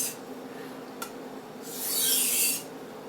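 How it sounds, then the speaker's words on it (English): A chef's knife is stropped across a Japanese water stone, giving a short click and then a long, bright rasping stroke that rises and fades. "Kind of go to a stropping motion here."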